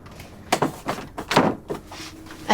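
A locked bedroom door in an apartment is rattled and pushed several times, giving a series of close, dull thumps and clatters with short pauses between attempts.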